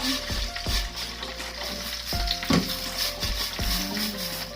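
Water hits a hot pan of five-spice stew base for braised pork leg, a steady bright sizzle broken by several dull knocks of a utensil against the pan.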